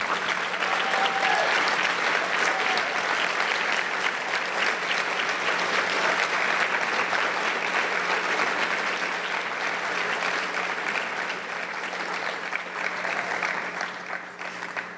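Sustained, enthusiastic applause from a large audience at a school scholars' awards ceremony, steady clapping filling the room throughout and tapering slightly toward the end.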